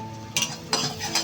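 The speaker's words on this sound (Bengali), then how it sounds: "অল্প একটু পেঁয়াজ এখন একটু নেড়ে নিব" A utensil scrapes sliced onion around a frying pan in three quick, close strokes, with a light sizzle between them and no talk.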